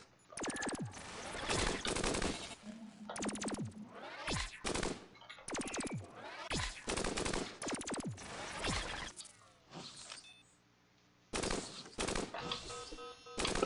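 Bursts of rapid gunfire in the sci-fi roguelike game POLYBOT-7, loud and close, coming in several volleys separated by brief pauses.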